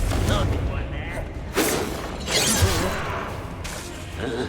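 Confringo blasting spell cast in the video game Hogwarts Legacy: bursts of whooshing, booming spell impacts and shattering crackles mixed with voices shouting in a dungeon battle, several blasts spread across the moment.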